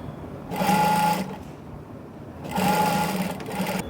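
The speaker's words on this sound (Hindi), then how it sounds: "अब पहले इसमें एक सिलाई लगाऊंगा मैं थोड़ी दूरी पर ऐसे, ताकि इसको सपोर्ट मिल सके" Sewing machine stitching fabric for a fish cut skirt, two short bursts of steady whirring with a pause between, close and moderately loud.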